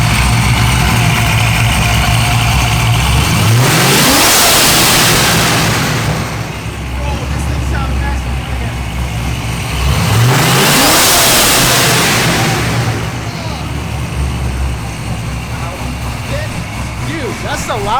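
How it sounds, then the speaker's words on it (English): A loud car engine revs hard twice, each rev climbing to a roaring peak before falling back to a rumbling idle. Voices can be heard faintly underneath. "that's the loudest car I've ever heard"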